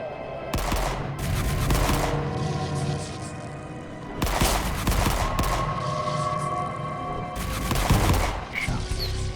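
Loud bursts of automatic gunfire from the game Forgive Me Father come in three long volleys, each a rapid stream of close, harsh shots lasting a second or two, separated by brief gaps with a steady music bed underneath.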